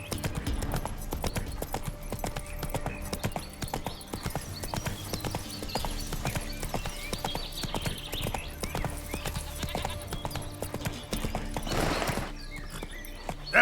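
Hooves of Roach, the horse in The Witcher 3, clip-clop in a steady rhythm throughout, with a brief breathy whinny near the end.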